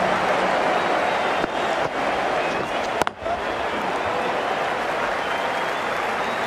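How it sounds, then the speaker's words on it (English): An excited cricket crowd at a Bangladesh versus Sri Lanka World Cup 2019 match applauds a shot, steady loud clapping and cheering throughout with one sharp crack midway. "It's going to be hard for the bowler to focus with the crowd this excited"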